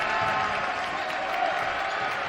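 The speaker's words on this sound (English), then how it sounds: "As Sheboygan North runs their set, crowd getting into it, Coach Babinski getting into it." Crowd noise at a high school varsity boys basketball game against Sheboygan North, a steady, loud wash of cheering and applause filling the gym without a break.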